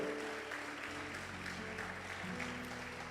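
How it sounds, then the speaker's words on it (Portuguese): A church congregation applauds during a worship service, faint continuous clapping carried over low sustained instrumental tones. "Você pode aplaudir o Senhor?"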